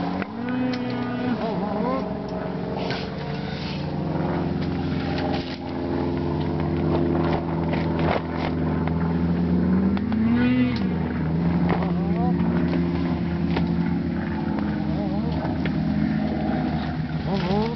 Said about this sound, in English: Or listening to fucking snowmobile riders.